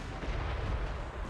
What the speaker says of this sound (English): funny thing about the Hell Cannon, they're not firing an actual physical charge